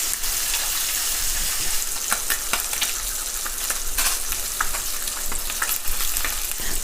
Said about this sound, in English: Yes, that's the sound you want to hear, a sizzle.